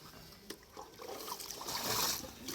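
Water pours and splashes onto plants, swelling louder toward the end of the short stretch.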